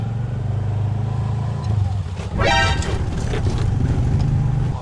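Heavy road traffic around a tuktuk, with a steady low engine rumble and a brief, loud horn-like toot in the middle, heard up close.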